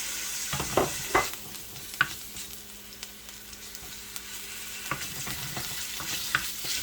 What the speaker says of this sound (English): We're going to saute the garlic and the ginger together. Next, add in the mushrooms.